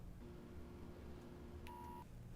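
Dialing tones from a TicWatch Pro smartwatch placing a call over Verizon LTE: a faint, brief electronic beep near the end of a short stretch of low background hum, with no talking.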